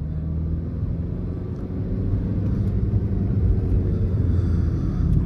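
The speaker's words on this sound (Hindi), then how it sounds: "तीसरे गियर पे है गाड़ी अभी, इन गियर एक्सेलरेशन" A 2012 Suzuki Swift VDI diesel car accelerates in third gear with a steady, heavy low engine rumble and road noise that builds slightly, heard from inside the cabin.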